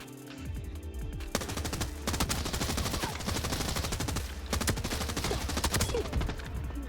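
Rapid bursts of automatic gunfire from an RPK light machine gun in Arena Breakout Infinite, sustained and loud with brief pauses between strings of shots.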